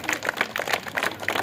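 A school assembly claps for a first-grade student, a short burst of scattered, fairly close handclaps with no talking.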